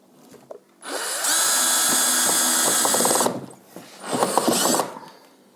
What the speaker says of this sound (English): And when you're screwing these in, hold everything nice and tight.